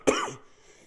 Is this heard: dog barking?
no